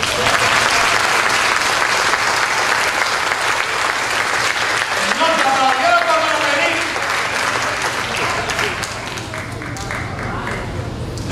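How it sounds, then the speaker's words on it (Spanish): A church congregation claps loudly and continuously during a sermon, with some voices and shouts mixed into the dense, sustained applause. "Denle un aplauso al Eterno."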